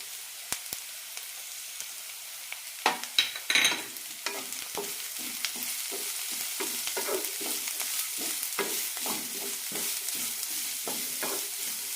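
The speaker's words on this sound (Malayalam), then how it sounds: "സവാള ഇട്ട ശേഷം ഒന്ന് രണ്ട് മിനിറ്റ് വഴറ്റിയെടുക്കാം അതിനുശേഷം പച്ചക്കറികൾ ഇടാം ചെറുതായി മുറിച്ച കാരറ്റും ബീൻസും" Onion, finely chopped carrot and beans being sautéed in a pan, a soft steady sizzle broken by repeated scraping stir strokes, close, with a few sharp clatters early on.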